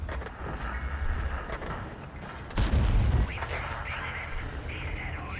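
A deep, booming Leopard 1 tank cannon shot in World of Tanks bursts out over a steady background of game noise and engine rumble, with a faint voice talking underneath.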